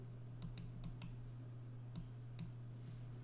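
Photoshop CC 2018 is driven with a computer mouse, giving a few light, close clicks spaced irregularly over a steady low electrical hum, with no voices.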